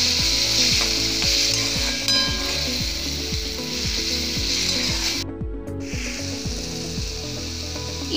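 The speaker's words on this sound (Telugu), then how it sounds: "మనం ముందుగానే కట్ చేసి పెట్టుకున్న ఈ టమాటాని ఈ ఆయిల్లో వేసుకొని" Cut tomatoes frying in hot oil in a pan for tomato chutney, giving a loud, constant sizzle with repeated scraping strokes of a stirring utensil throughout.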